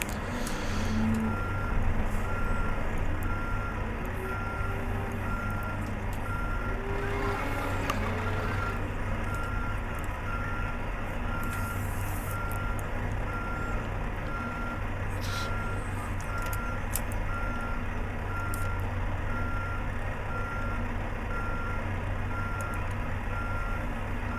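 A truck in Euro Truck Simulator 2 backs into a parking spot at night, its reversing alarm beeping steadily and evenly over a low idling engine hum, with occasional soft clunks and hisses.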